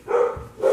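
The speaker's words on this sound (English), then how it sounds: "Sorry about the dogs." Dogs give two short, sharp barks close by, loud and abrupt, with no talking over them.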